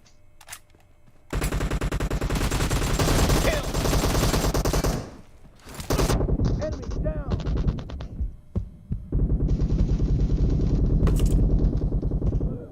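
PUBG Mobile gunfire crackles in loud, rapid automatic bursts, several long volleys separated by brief pauses, close and dominant throughout.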